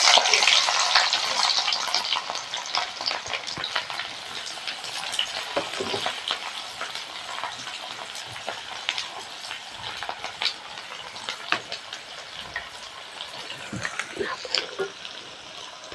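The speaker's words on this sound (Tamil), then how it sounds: "வெந்தயமும் பொரியட்டும். சின்ன வெங்காயம் சேர்த்துக்கலாம்." Fenugreek seeds and small shallots fry in hot oil, a continuous bright crackling hiss that starts louder and settles, with faint scattered clicks, close up and without talk.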